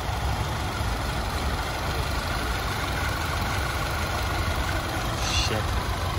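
A Chevrolet Camaro SS engine idles roughly and shakes during a road-trip breakdown, giving a steady, close, low rumble that drones on without a break for the whole stretch.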